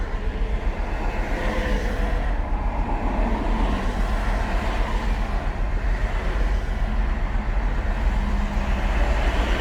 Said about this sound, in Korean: 이 상태로 지금 차가 떨리는 상태로 갈 수가 없죠